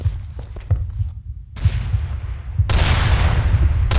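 Game gunfire cracks and booms in several bursts during a team shooter match, loud and close with a low rumbling bed between shots.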